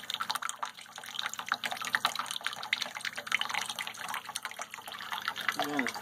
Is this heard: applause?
no